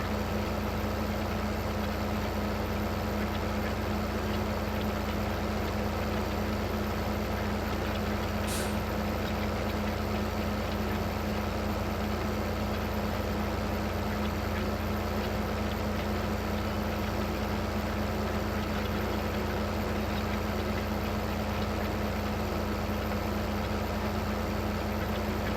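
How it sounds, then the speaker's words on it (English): An articulated tractor in Farming Simulator 15 drones with a steady, loud engine hum that holds unchanged throughout, with no talking over it. "Driving by hand here, right? With articulated tractor."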